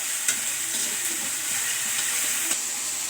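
Tomatoes sizzle steadily in a hot pan while a utensil stirs them with a few soft scrapes and knocks, the frying hiss continuous and fairly loud throughout.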